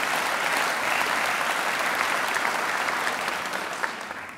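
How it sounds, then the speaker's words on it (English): Sustained audience applause at a poetry prize ceremony honouring a lifetime achievement, a dense, even wash of clapping from a large hall crowd that holds steady and tapers slightly at the end. "The applause doesn't count in the minute"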